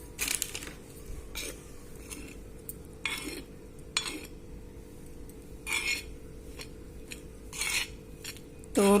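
Henna is mixed into boiled, cooled tea water in an iron bowl, with intermittent scraping and clinking strokes of a utensil against the metal and quiet stretches between them.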